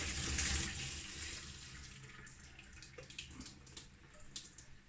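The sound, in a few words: draining water from blanched broccoli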